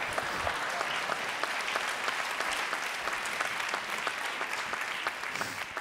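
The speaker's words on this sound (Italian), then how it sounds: "per il quale io vi chiedo un grandissimo applauso" A live comedy-show audience gives a guest a steady, dense round of applause, many hands clapping together at an even level for several seconds with no voices on top.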